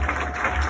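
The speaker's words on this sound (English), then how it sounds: "clap for yourself" Crowd of church members clapping for themselves, a steady dense patter of many hands at close range with no voices over it.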